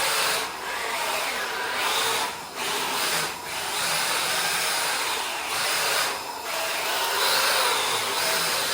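A WPL D14s brushless RC drift truck circles while drifting, its electric motor giving a high, steady whine that dips briefly several times as the throttle eases.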